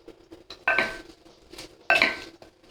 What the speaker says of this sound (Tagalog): And then we mix like this.